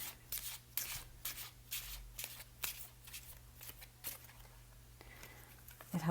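Playing cards being shuffled by hand, soft repeated riffling and rubbing bursts in an irregular rhythm, fairly quiet and close, with no voice over it.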